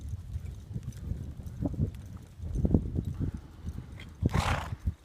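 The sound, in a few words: horse moving on the circle during barrel racing warm-up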